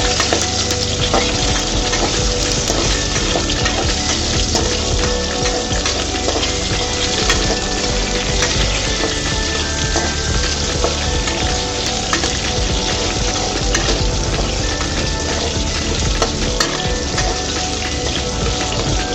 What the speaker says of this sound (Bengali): আলুগুলোকে আমি সুন্দর করে নেড়ে চেড়ে ভেজে নেব।